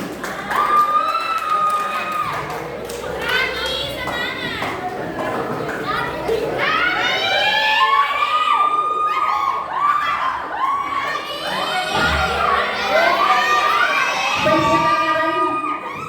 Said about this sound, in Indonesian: Beri tepuk tangan yang meriah untuk kelompok Putri 5